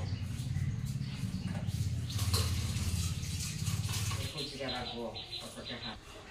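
Papaya being washed under running tap water, a steady close splash of flowing water that thins out toward the end, with someone talking over it.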